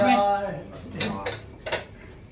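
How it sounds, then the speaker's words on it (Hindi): Dishes, pots and pans clattering as they are washed in a student kitchen in China, with a couple of sharp metallic clinks and scrapes after a voice speaks at the start. "बर्तन धो रहे हो?"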